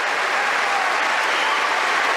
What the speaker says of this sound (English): An hour and 20 minutes takes the applause from the crowd.